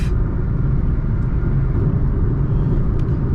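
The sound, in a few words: wind noise in Toyota Taisor cabin at highway speed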